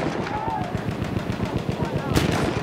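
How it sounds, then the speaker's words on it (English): Enemy machine gun fire in a Battlefield V multiplayer battle rattles off in rapid, steady bursts at moderate distance, with a voice speaking briefly over it. "Machine gun, one of theirs."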